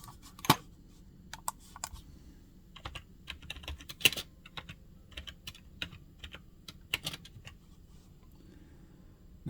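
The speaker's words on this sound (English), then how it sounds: "I'll type it into eBay real quick." Keyboard typing while searching online for a roll of 1919-S Lincoln wheat cents: quick bursts of close, crisp key taps with short pauses between, no voices.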